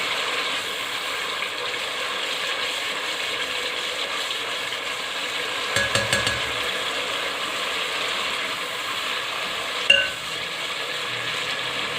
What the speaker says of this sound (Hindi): इसको एक आध मिनट हम भून लेते हैं